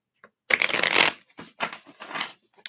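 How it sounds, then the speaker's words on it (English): Tarot cards are riffled and shuffled up close, with one long rapid flutter followed by several shorter shuffling bursts. "let's give these a shuffle"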